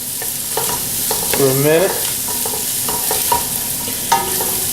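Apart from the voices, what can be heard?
orange bell pepper sautéing in a pan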